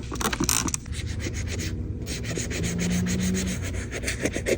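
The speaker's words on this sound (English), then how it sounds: "I'm gonna try to clean this without scratching" Close, steady scrubbing and rubbing on a filthy iPad case, a continuous textured friction with brief rhythmic strokes and no speech.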